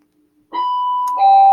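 A doorbell rings indoors: a first bright chime tone followed by a second, lower overlapping chime, loud and close, preceded by a quiet room.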